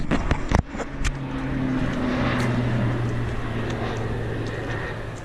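A crop duster airplane drones overhead above the woods, a steady engine hum that builds and holds through the clip, with a few brief knocks and rustles near the start and no talking.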